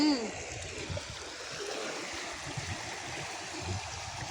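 Creek water flows in a steady, broad rush that stays even throughout, with faint splashy texture and no clear voices on top.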